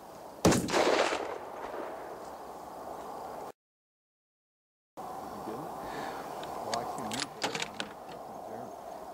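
A rifle shot fired at an elk during a Rocky Mountain hunt cracks out sharply and loud near the start, followed by outdoor rustle with quiet voices talking later on.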